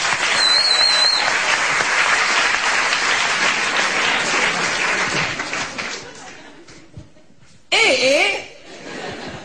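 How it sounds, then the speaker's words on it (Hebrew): An audience gives loud, sustained applause mixed with chuckles and laughter for the parents' committee chairman at a gathering. The clapping thins out toward the end, then a brief loud burst of sound cuts in. "תנו לו הרבה כפיים."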